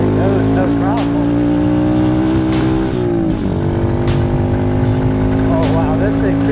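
Lightweight supermoto motorcycle engine accelerating hard, a loud steady drone rising in pitch with a brief dip near the middle before climbing again; continuous and close.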